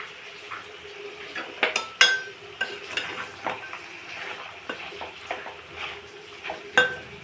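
Brinjal and green pea curry simmers in a pan with a soft background sizzle, broken by scattered metallic clinks and scrapes of a spoon against the pan at uneven intervals.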